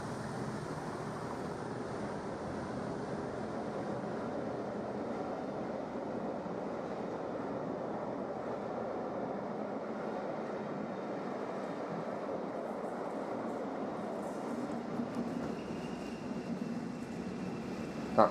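British Rail Class 37 diesel locomotives give a steady, droning engine rumble that holds a constant level for the whole stretch, with no talking over it.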